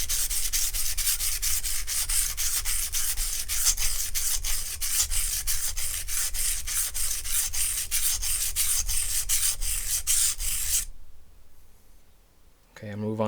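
A knife with a broken tip ground back and forth on a sharpening stone, loud rhythmic rasping strokes in a fast steady series that stop abruptly near the end, followed by near silence and a brief sound.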